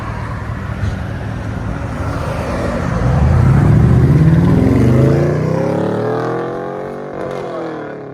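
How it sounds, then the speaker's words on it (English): Pontiac G8 GT with a 6.0L V8 and Borla S-type catback exhaust revs up loudly from a steady idle, the deep rumble rising to a sustained high-rpm roar before easing back down, with faint road traffic behind it. "Pontiac G8 with a Borla S-type catback."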